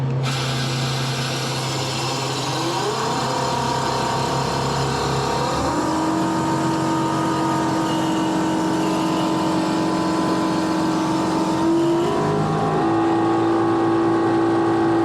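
Truck engine running steadily and loud, its pitch climbing in stepped rises as it revs up to higher held speeds, with no talk over it.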